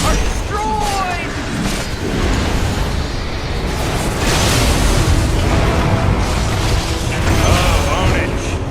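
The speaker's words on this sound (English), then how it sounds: "The enemy's bottom barracks are destroyed." Enemy barracks explode in a Dota-style MOBA, a dense, loud rumble of booms and bursts that runs continuously under a game announcer's excited talk, with no clear separate blasts.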